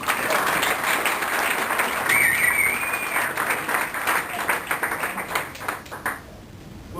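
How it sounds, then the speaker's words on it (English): An audience at an asset protection seminar breaks into a big round of clapping that swells, then thins into scattered claps before fading, with a brief ringing tone partway through. "Can we give him a big clap?"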